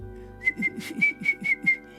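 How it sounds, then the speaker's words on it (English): Whistling demonstrates the technique used to play the kōauau, a Māori flute, as a run of seven short, evenly paced, breathy high notes with soft lip and breath noise between them, close and unaccompanied. "for the kowawa, you got to learn how to whistle so that it goes in the right place"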